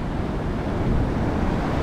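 Surf breaking along a sandy beach where whiting are fished in rough conditions, a steady close wash of waves with wind noise buffeting throughout, no voices.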